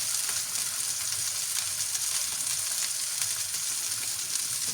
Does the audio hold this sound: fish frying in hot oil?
yes